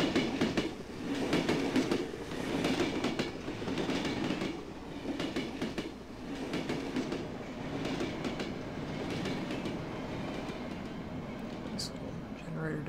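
A train ride in the video game Cry of Fear gives a continuous rumbling rattle with rhythmic clacking of wheels on rails, while a person talks over it throughout.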